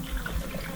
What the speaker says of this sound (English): Just going to put a little bit of water in our steamer.